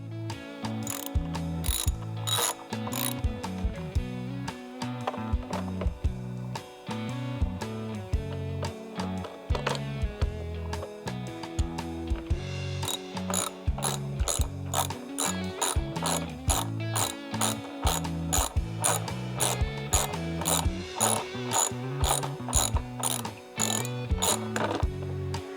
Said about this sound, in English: we'll go ahead with a 7/16 socket and remove this screw here, one on each side